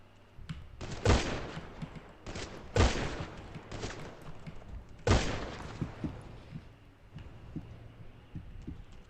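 Three sharp, loud gunshots ring out a couple of seconds apart over a low background rumble in a Minecraft sheriff roleplay game, each shot followed by a brief decay.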